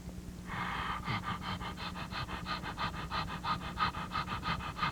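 Open-mouth breathing exercise for clearing bronchial secretions: a steady series of quick, rhythmic panting breaths, about three per second, close and alone for several seconds.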